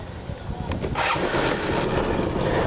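A 2006 Piaggio BV 250 scooter engine cranks and fires, then settles into a steady running idle close by, loud and continuous for the rest of the moment.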